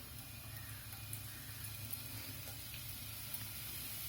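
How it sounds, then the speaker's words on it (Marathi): Crushed garlic hits hot oil in a pan and gives off a continuous, even sizzle that hisses steadily without pause, close by, with no talking. "आता तेल तापल्यावरती आपण त्याच्यामध्ये ही क्रश केलेली लसूण घालणार आहे"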